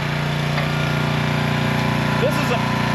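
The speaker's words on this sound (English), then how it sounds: "choke's fully open. It's running good. The engine sounds good." A small engine on a robot runs steadily with the choke fully open, a loud continuous buzzing drone with an even pulsing hum, while a voice speaks briefly over it.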